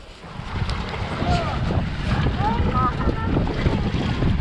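A Progress motorboat with a 40 hp two-stroke outboard crosses big waves on a lake. Engine drone and water slap sit beneath strong wind buffeting the microphone, with brief whistly tones, close and loud.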